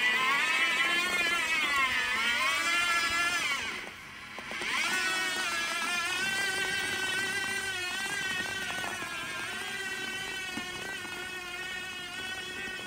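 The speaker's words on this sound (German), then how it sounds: "Wenn die Frau sich jetzt bewegt, dann fährt der Roboter vorsichtig hinterher." A Yarbo garden robot snow blower slowly trails a walking woman in follow-me mode, its electric drive giving a continuous whirring motor whine that shifts in pitch and briefly dips midway.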